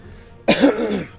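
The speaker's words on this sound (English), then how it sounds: "Actually, I had to clear my throat." A man clears his throat once, a short rough burst up close that fades after about half a second into quiet.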